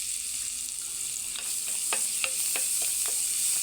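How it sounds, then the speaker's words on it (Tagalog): Garlic fries in melted margarine in a pan for pork sisig, giving a steady close sizzle with a bright hiss and a few sharp stirring clicks and scrapes, without any voices. "Ayan, lagyan na natin ang bawang."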